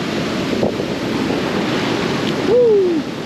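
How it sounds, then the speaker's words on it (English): Ocean surf washing steadily onto an Outer Banks beach during hurricane season, a continuous loud roar under gusting wind noise, with a brief swelling crash near the end. "Never turn your back on the ocean, that's for sure."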